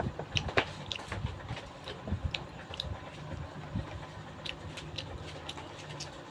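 Someone chews a sandwich with crunchy cucumber, producing close, irregular crisp bites and munching crunches, quiet overall and without speech.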